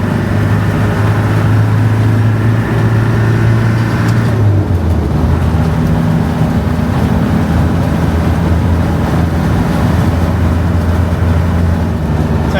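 A turbocharged Land Rover Defender engine pulls steadily in third gear, a loud, continuous drone heard from inside the vehicle that rises, dips once as the load changes, and then keeps on droning, with no talking.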